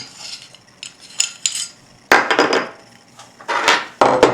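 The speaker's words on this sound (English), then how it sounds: "Off comes the slide. Take your barrel bushing out." A 1911 pistol is taken apart by hand, the slide coming off and the barrel bushing removed, giving a series of sharp metallic clicks, scrapes and clacks in irregular bursts, close and fairly loud.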